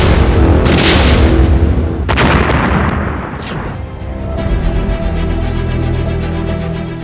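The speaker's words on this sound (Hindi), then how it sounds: "एक और धमाका," A powerful explosion from an army encounter in Anantnag bursts with a loud broadband crack, followed by another heavy blast and a long rumbling aftermath fading into steady noise.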